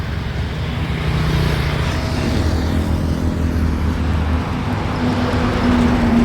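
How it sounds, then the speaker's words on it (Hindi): Road traffic in Vietnam dominated by scooters, heard as a steady close engine drone with passing vehicles and a rising whine near the end, continuous and fairly loud. "ये है स्कूटरियों का देश वियतनाम।"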